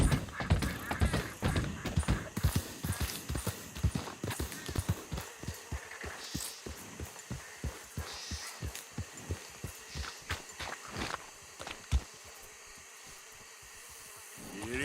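Horse hooves in the Red Dead Redemption 2 video game, a fast, continuous rhythmic pounding of galloping hooves at moderate volume, slowing slightly toward the end.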